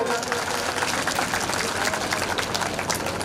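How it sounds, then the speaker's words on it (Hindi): Crowd applause at a Bhagwat katha gathering greets the visiting guru Prakash Baba from Uttarakhand, a busy, continuous patter of many hands mixed with murmuring voices, loud and close throughout. "इनके लिए जोरदार ताली बजा दो।"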